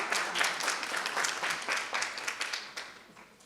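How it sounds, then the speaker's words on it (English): Audience applause at a leadership media launch event, a sustained wash of many hands clapping at moderate distance, gradually fading over a few seconds. "Let's give him a round of applause again."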